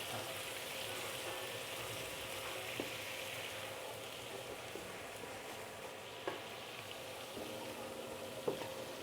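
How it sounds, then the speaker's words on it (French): A frying pan on high heat deglazed with a splash of rice vinegar while cooking creamy pasta with mushrooms and sausage: a continuous soft hiss and sizzle with occasional faint clicks of a utensil, steady and fairly quiet throughout. "On va venir déglacer la poêle"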